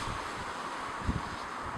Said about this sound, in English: I hope the wind doesn't disturb the sound too much here